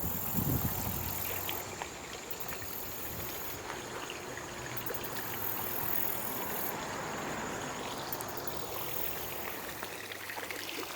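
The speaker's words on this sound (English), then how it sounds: "Fountains are a kind of theme for us in our garden. We actually have 6 of them." Water trickles and splashes steadily from a garden fountain outdoors, a soft continuous wash at moderate distance with no voices.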